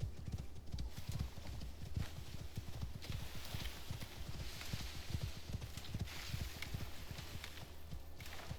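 Horse hooves clip-clopping at a steady running pace in the survival video game Icarus, a continuous rapid patter over soft ambient background, fairly quiet.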